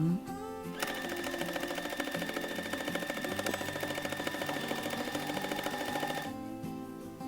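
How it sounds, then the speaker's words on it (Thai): A sewing machine stitches a fabric face mask in one steady, fast mechanical run lasting about five seconds, loud and close, starting and stopping cleanly. "เราจะมาเย็บกด ย้ำเย็บเลยไป"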